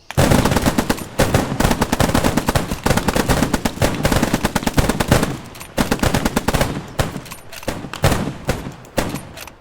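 Dense volleys of rifle and machine-gun fire from an infantry platoon in the World War II shooter Squad 44 crackle almost continuously for nearly ten seconds, loud and close, with brief gaps between bursts.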